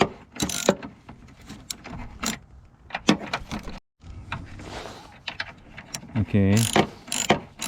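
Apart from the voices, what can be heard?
ratchet removing strut bolt on Toyota Sienna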